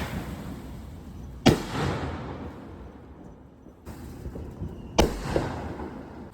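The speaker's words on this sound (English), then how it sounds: "do you like fireworks?" Fourth of July fireworks go off outdoors at night, with two sharp booming bursts, each followed by a crackling decay, over steady background noise.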